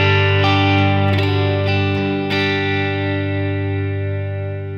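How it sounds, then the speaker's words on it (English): Electric guitar chords played through a Line 6 Helix with amp and speaker simulation, reverb and delay, a rich sustained wash ringing loudly and slowly decaying, with a few soft pick or string noises. "In this video I'm going to be using my electric guitar, guys, and I'm also running through my Line 6 Helix with the amp and speaker simulation."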